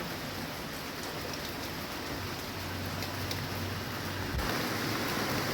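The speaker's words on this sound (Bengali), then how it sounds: "তোমাদেরকে দেখালাম এখনও বৃষ্টি পড়ছে" Steady rain falls in Cumilla, Bangladesh, during days of heavy downpour, a continuous broadband hiss with a faint low rumble, constant throughout and growing slightly louder near the end.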